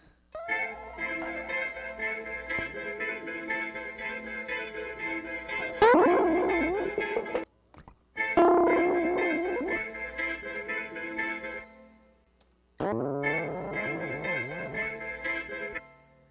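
Electric guitar chords through a Digitech Whammy pedal controlled by MIDI, pitches bending and sliding up and down in warbling sweeps, heavily effected, broken by short silences.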